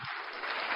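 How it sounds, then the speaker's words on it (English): A crowd cheers and roars as one continuous broadband wash of noise, loud and sustained for the whole moment with no break. "Oh, the crowd goes wild"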